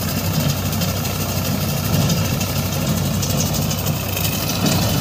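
A Farmtrac 35 Champion diesel tractor runs at about 1500-1600 RPM driving a PTO-operated implement, giving a steady, dense mechanical drone with constant loudness and no pauses.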